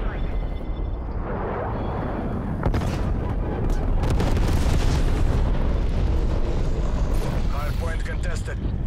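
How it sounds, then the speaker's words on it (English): Grenade blast in the Call of Duty: Black Ops Cold War Hardpoint mode, a dense sustained low rumble of explosions and battle noise over several seconds, loud and continuous, with game voice callouts mixed in. "Throwing grenade."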